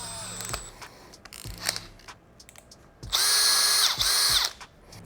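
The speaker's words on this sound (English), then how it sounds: "I'm just gonna do it with a drill and show you how simple it is" A hand power drill whirs in a steady high-pitched burst for about a second and a half, drilling a 5/16-inch hole, after a few quieter clicks and handling sounds.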